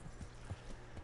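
A horse in the Kingdom Come: Deliverance video game, giving a few soft hoof clops and low snorts, faint and close, spaced irregularly across a quiet moment.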